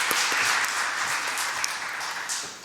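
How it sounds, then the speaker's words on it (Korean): A church congregation applauds during a Sunday worship service, a dense, steady wash of clapping from many hands that holds for a few seconds and then eases slightly at the end. "박수 올려드리겠습니다."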